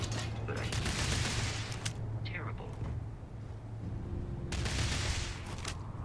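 Rapid bursts of rifle gunfire from a Starfield firefight crackle loudly in two dense clusters, with someone talking over much of the action.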